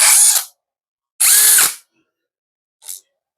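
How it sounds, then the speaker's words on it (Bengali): The chuck of a 20V cordless impact drill being turned by hand to tighten the bit, heard as three short bursts of ratcheting, the last one briefer and fainter, separated by silence. "মেশিনের বিট টাইট দিতে আপনার রেঞ্জ লাগবে না হাত দিয়ে আপনারা টাইট দিতে পারবেন খুব সহজে"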